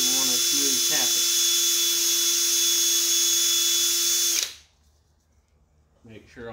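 A powered tool runs 240 grit abrasive over an engine tappet in a cleanup pass, a loud steady high whine that cuts off abruptly after about four seconds, with someone talking over it and after.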